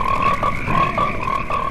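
Frogs in a radio spot for the 1972 horror movie Frogs croak in a loud, repeated rhythm, several evenly spaced throaty pulses close up with nothing else heard.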